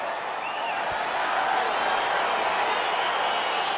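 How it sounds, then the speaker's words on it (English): Arena crowd in the EA Sports UFC 4 video game cheering as a fight gets underway, a steady, dense roar of many voices holding at an even loudness throughout. "All right, crowd getting excited as this fight gets underway"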